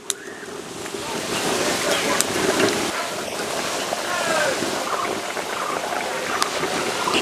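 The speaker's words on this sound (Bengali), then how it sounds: "আজকে মাঠে প্রচণ্ড হাওয়া বইছে।" Strong wind blows across an open field outdoors, a steady broadband roar and buffeting that holds for the whole stretch with no clear pauses.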